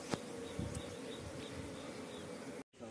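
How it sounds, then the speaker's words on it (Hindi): Honey bees swarm around a large honeycomb, producing a continuous close, buzzing drone with a few sharper passes across it, with no voices. "आज रेस्क्यू कर रहे हैं हम मधुमक्खियों को शहद खाने के लिए"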